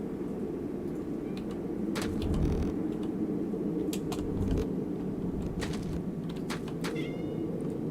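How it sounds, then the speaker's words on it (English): Cat meowing a few times at close range, short faint cries over a steady low mechanical hum. "Hello, kitten. Hello, cat."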